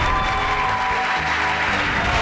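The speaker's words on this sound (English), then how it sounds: "A round of applause for Dr." Steady, dense clapping from an audience greets a panel guest at a university challenge event, holding at an even loud level throughout the short burst.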